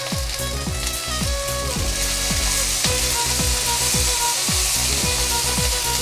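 Cubed tomato frying in a pan with vegetables for a mushroom and chicken sauté, loud continuous sizzling close up, broken by regular knocking strokes of a spatula against the pan.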